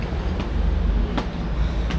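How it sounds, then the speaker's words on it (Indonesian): A train rumbles past close by, a loud steady roar with faint rhythmic clatter from the rails and wagons, heard alone without talk. "Wow, ada kereta lewat."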